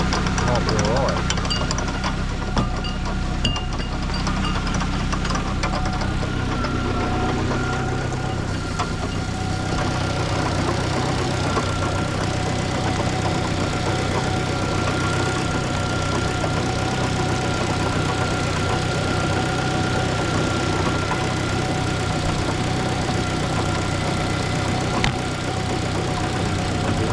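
A Fiat Panda 100hp engine runs steadily up close with a noisy driveshaft, its brake disc held by only one holder, giving a continuous droning rumble with a faint knocking vibration throughout.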